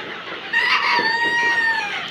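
Fayoumi chickens on a poultry farm, with a clear crow drawn out over a steady background of clucking from the flock, fairly close and with no talk.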